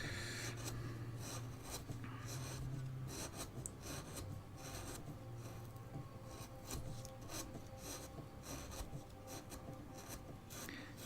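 A wooden owl being hand carved at an angle, with faint repeated scraping and rasping strokes of a blade across the wood, quiet and close, in an uneven rhythm.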